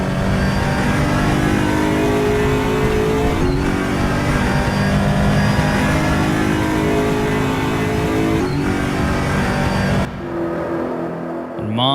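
An ESR Aquila race car at Monza roars loud and close under sustained acceleration, with its engine note dropping briefly at two gear shifts before the sound falls away at the end.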